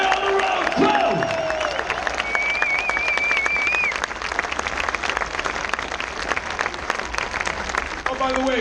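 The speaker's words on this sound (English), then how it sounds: "Give them a fucking round of applause, please." A large festival crowd at a heavy metal concert applauds and cheers for the road crew, a loud sustained roar of clapping with whistles and shouts, and a voice on the PA near the end.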